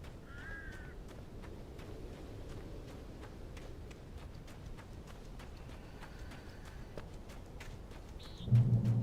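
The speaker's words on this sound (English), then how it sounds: "Birds." Crows caw faintly in the video game Alan Wake, with a few distant calls scattered over a dull ambient hum, followed by a louder thump near the end.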